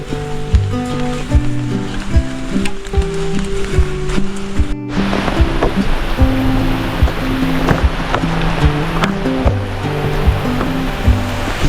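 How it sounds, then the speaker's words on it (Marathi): A forest stream near Badlapur rushes loudly and continuously, a dense wash of flowing water close by, with no voices heard. "दुसरा ओढा लागला आपल्याला."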